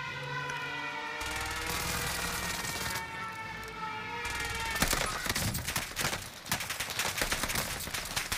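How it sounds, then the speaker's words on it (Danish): Rapid bursts of automatic gunfire and crackling shots in Call of Duty Warzone build up over a wailing siren-like tone and game music, growing dense and loud toward the end. "Åh, jeg bliver skudt bagfra den."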